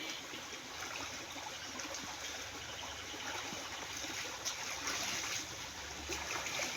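A nearby stream flows with a steady, broad rushing murmur that holds evenly throughout, soft and unbroken, with no speech.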